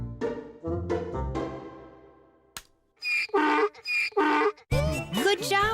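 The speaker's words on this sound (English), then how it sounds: "That's the sound a donkey makes." A donkey brays in a cartoon sound game: drawn-out wheezing tones that give way to loud, harsh, rhythmic hee-haw blasts, close and alone.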